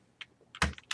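Computer keyboard typing while entering code, a few quick, close key clicks with one louder keystroke, heard alone.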